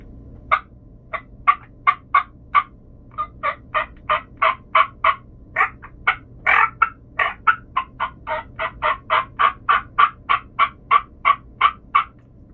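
A string of sharp, rapid yelps and clucks from a Woodhaven turkey call, played up close in quick rhythmic bursts with brief pauses.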